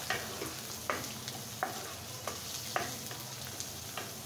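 Tomato fries with ground spices in a pan as a steady sizzle runs under regular scraping stirs that strike roughly every half second, close and moderately loud.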